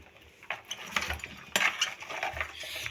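A spoon clinks and scrapes irregularly against a metal pot as a kilo of cauliflower is stirred into spices for a restaurant-style gobhi matar masala, with sharper knocks now and then.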